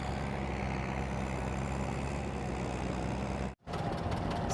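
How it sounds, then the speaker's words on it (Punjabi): A 75-year-old two-cylinder John Deere tractor idles steadily at a tochan tractor-pulling contest, its low, throbbing engine running close and continuous, cut by a brief dropout near the end. "75 ਸਾਲ ਪੁਰਾਣਾ ਟਰੈਕਟਰ ਆ ਜੌਨ ਡੀਅਰ ਦਾ 2 ਸਿਲੰਡਰ ਆ"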